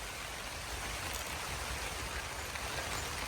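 Rain falls steadily at a camping site on a summer motorcycle trip, a constant soft hiss with no breaks, heard alone without voices.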